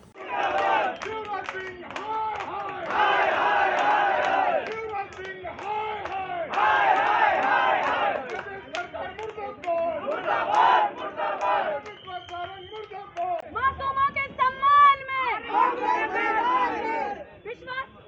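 A large crowd of party workers outside a hospital shouts protest slogans against the hospital management and state leaders, loud rhythmic chanting that surges and falls in waves, ending in sharper individual shouts.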